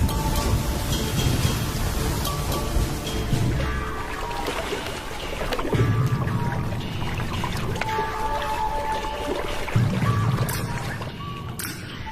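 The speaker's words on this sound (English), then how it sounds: "The first real rains for a year." Steady rain pours and patters on surfaces in Africa, a dense continuous hiss with drips and splashes, mixed with faint background tones.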